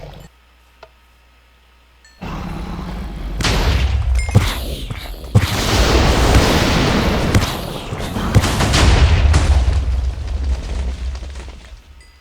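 Ender Dragon fireballs in modded Minecraft set off a run of loud, sustained explosions, with rolling booms and crackling blasts that follow a brief quiet opening and a few sharp pops.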